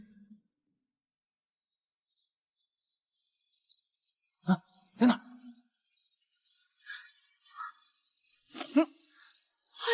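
Crickets chirp in a steady high, continuous trill with pulsing bursts, joined by a few brief exclamations from nearby voices.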